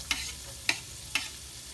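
Onion and garlic sautéing in a pan, a low steady sizzle broken by three brief spatula scrapes, close and quiet, without speech.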